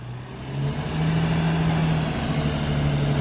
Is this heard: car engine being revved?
yes